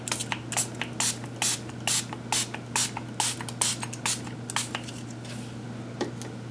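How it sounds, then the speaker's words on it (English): A handheld spray bottle of water mists a paper napkin in repeated short, crisp bursts with a clicking trigger, about a dozen pumps in quick rhythm, close and fairly loud over a steady low hum. "we're just going to take a little spray bottle of water."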